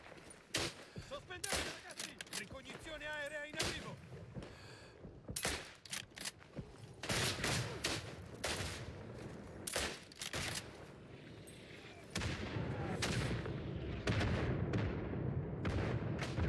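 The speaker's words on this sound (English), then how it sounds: "I literally have been shooting at some grass." Rifle and machine-gun fire in the WWI game Isonzo, many sharp shots at irregular intervals, some near and loud and others distant, building into denser firing toward the end, with occasional talk underneath.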